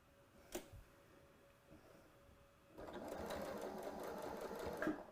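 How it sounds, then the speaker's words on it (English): Sewing machine stitching across the end of a fabric seam, a quiet pause with a couple of clicks first, then a fast, steady run of needle strokes for the last two seconds, close and alone. "I'm going to bring this to the machine and I'm going to sew over just the end here"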